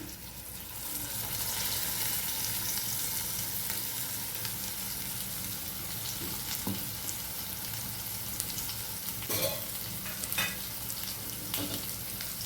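Ground masala paste sizzling and frying in hot oil in a pan for an egg curry, with steady crackle and occasional scraping stirs close by, continuous throughout with no talking.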